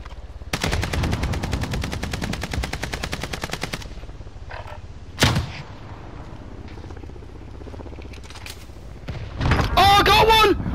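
Call of Duty: Modern Warfare weapons fire a long, rapid, evenly spaced burst, then one sharp, loud single shot stands out before quieter game noise and a voice near the end.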